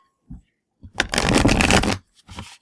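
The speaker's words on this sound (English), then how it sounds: "we're going to shuffle 3 times" Oracle cards riffle-shuffled in a few bursts: brief soft flicks, then a long dense whirring riffle, and a final short shuffle, close and clear.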